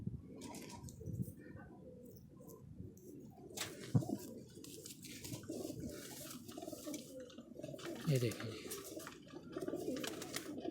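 Soft cooing of Lakha pigeons, high-flying breeders, murmurs in the background while someone talks in Hindi over them.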